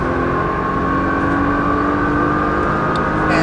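A Nissan GTR engine held at full throttle on Las Vegas streets gives a loud, sustained droning roar with steady tone and no breaks.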